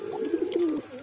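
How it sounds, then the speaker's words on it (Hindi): A pink-dyed white pigeon cooing, a single close, clear throaty coo with a rolling, warbling pulse, heard alone. "कितना माशाल्लाह, कितना ज़बरदस्त गुटर रहा है।"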